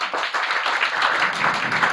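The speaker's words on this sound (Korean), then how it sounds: "박수 잘 치셨고요" Studio audience applauding in a Korean political talk show, a steady dense wash of many hands clapping throughout, fairly loud and sustained with no pauses.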